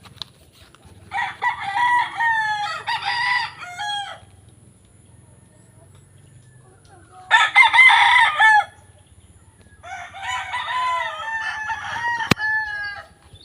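Roosters crow loudly in three separate bursts, with soft clucking and farmyard murmurs between calls.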